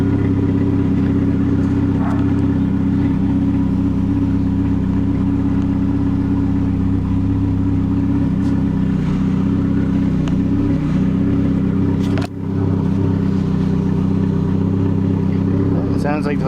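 A 1996 Chevrolet Cavalier engine idles steadily after a cold start, a constant low droning rumble with a brief dip partway through, while a person speaks over it.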